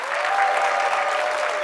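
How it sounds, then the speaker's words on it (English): A brief, full burst of applause fills a hall at a university address, many hands clapping at once in an even, sustained wash. "Let's give our Royal Court another round of applause."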